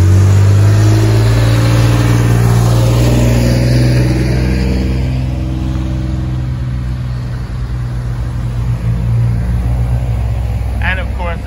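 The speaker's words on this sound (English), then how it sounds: "you have the droning of the traffic noise that's constantly going by" Steady droning of passing city traffic in San Isidro de Pérez Zeledón, Costa Rica, an engine rumbling loudly up close before easing into a continuous wash of traffic noise.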